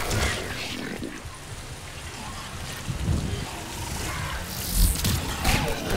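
Toxic rain falls steadily in a video game, a continuous broadband hiss with a few louder swells near the end, while voices talk over it.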